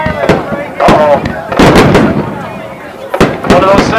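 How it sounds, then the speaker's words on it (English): Fireworks bursting at the Sara Park fireworks show, several loud sharp booms and crackles spread across the clip, with people talking throughout. "We're going to let the fireworks go off a little."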